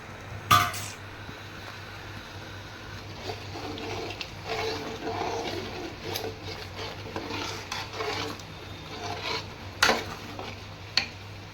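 Peas are tipped into a pan and stirred, producing soft scraping and clinking of a spoon against metal, with a few sharp knocks and a faint sizzle underneath.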